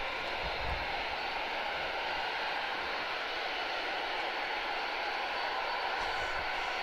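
A Lockheed C-141 Starlifter's engines roar steadily in a continuous broad, even drone that holds at the same level throughout, with no voices.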